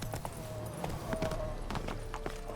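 Horse hooves clip-clop in Witcher 3: Blood and Wine, a stray horse in Toussaint giving a run of irregular, fairly close hoof strikes over a busy game soundscape.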